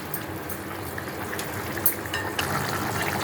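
Curry gravy boils in a pot on a gas stove, giving a steady close bubbling and sizzling hiss with small pops and splutters throughout, no voices over it.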